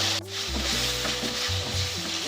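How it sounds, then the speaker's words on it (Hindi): Tomatoes with ginger garlic paste frying in a pan for mixed vegetable sabzi, a constant close sizzle with stirring, no voices over it. "टमाटर डाल दूंगी, टमाटर को सॉफ्ट होने तक पकाऊंगी।"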